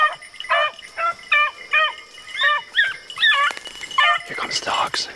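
Beagle hounds baying and yipping on a rabbit hunt in a field, a pack giving repeated excited, quavering cries in quick bursts, fairly close, with someone talking briefly near the end.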